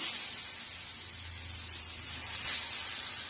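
Ash gourd slices frying in a pan, a steady bright sizzling hiss that holds evenly throughout with a slight swell toward the end, close and alone.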